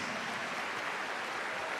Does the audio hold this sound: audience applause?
yes